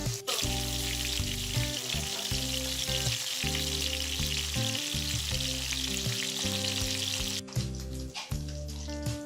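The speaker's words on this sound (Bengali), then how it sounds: "এখন এই মাছের মাথাটাকে আমি একদম স্লো আছে ভেজে নিচ্ছি দুই সাইডটাই" Steady, loud sizzling of a rohu fish head frying slowly in hot oil, continuous throughout, with a faint tonal hum beneath and no talking.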